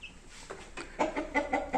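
Growing Brahma chickens clucking close by, a few short low clucks followed by a quick run of rhythmic, louder clucking notes.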